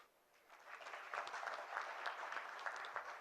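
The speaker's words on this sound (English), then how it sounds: "So a big hand for the Indian entrepreneurs" Applause from a conference audience at a TiE Global entrepreneurs' address: dense, sustained clapping that starts softly and swells after half a second, then holds steady without voices.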